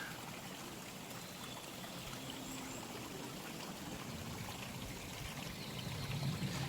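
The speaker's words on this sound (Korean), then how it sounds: "물소리를 듣고 있으면 되게 기분이 좋아지더라고요." Continuous rushing and trickling of a mountain stream on Cheonggyesan flowing over rocks, steady and fairly close, with no voices.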